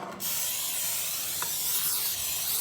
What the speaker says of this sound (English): Here's my spray.